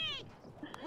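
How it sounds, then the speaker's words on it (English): A stray cat in the Sims 2 game gives a short meow, then a brief quieter cry, faint in the game mix under light background sound. "I think that's a cat."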